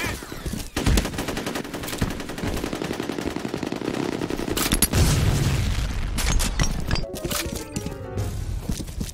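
Dense gunfire in the online shooter F.E.A.R. Combat, rapid automatic bursts with heavy booms of a grenade explosion layered in, loud and continuous throughout with no talk.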